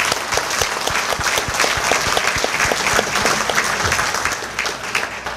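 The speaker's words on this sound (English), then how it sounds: "let's give them a round of applause for all the great work they do" A crowd applauds steadily, many hands clapping together in a dense, sustained wash that holds level throughout.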